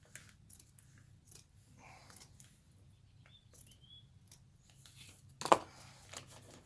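Scissors cut material for a door insert on a 2004 Honda Civic EX coupe, a few soft, quiet snips in a hushed room, with one sharper, louder cut near the end.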